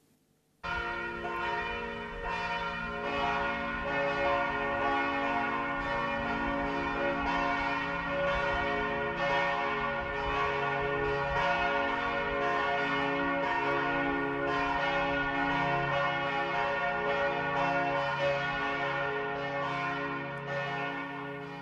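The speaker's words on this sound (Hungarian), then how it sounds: "Zeng-zúg a harangszó, ringatózik és hullámzik." Church bells ring loudly and continuously, their overlapping peals swelling and rolling together for a long stretch with no voices.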